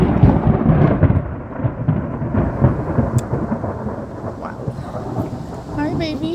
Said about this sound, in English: He doesn't like thunders.